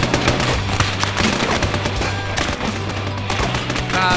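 Rapid automatic gunfire from toy-soldier troops in the Army Men video game: a continuous rattle of dense, overlapping shots at steady volume, with no voices.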